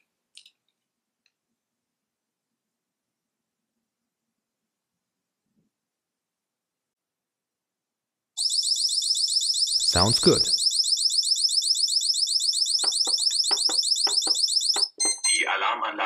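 After a long near-silence, a wireless alarm system's shrill electronic burglar alarm suddenly blares continuously and loudly, pulsing rapidly, with a short spoken German voice partway through and clicking near the end.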